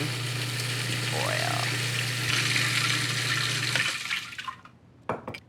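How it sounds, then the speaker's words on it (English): Canola oil trickles slowly into a pink vinaigrette dressing, a soft liquid pour running steadily under a low hum before tapering off, followed by a couple of faint clinks near the end. "I'm slowly pouring in"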